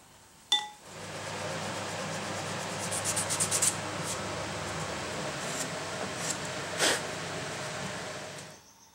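Continuous scratchy rubbing of sandpaper on a wooden guitar body, close and steady for several seconds, with a couple of light clinks.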